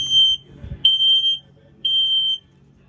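Three loud, high-pitched electronic beeps from a smoke alarm being tested inside a 2022 Cruiser RV Hitch 16RD travel trailer, each about half a second long, separated by short pauses, close and clear.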